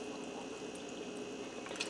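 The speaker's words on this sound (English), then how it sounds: "I'm going to add in about 2 cups of beef broth" Beef broth pours into a pressure cooker in a quiet, steady trickling stream, faint and close, with a few small splashes near the end.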